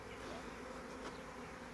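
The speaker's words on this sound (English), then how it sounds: "That is kind of weird that bees prefer to walk as opposed to flying." A swarm of honeybees hums on and around a bush, a faint, steady, diffuse buzz heard from a little distance with no break in it.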